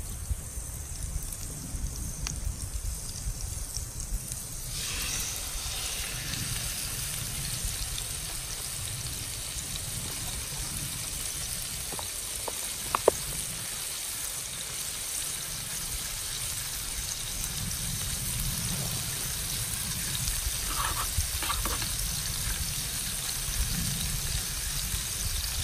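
Steak sizzles in a hot pan on a Trangia 27 camping stove, a steady close crackling hiss with dense spitting throughout, without talking.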